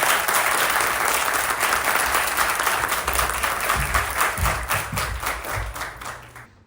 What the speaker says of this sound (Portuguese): Vamos dar as palmas aqui pro professor.